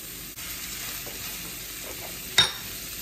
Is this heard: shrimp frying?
yes